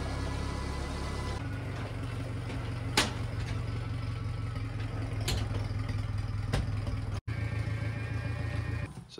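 A tractor engine idles steadily nearby while a backhoe attachment is hooked up, with a low continuous rumble and occasional sharp metallic clanks and knocks.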